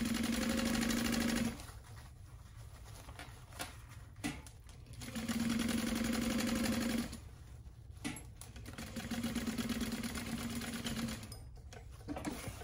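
Sewing machine back stitching a crossbody bag, with three bursts of rapid whirring stitching separated by pauses, handling clicks and quieter shorter runs.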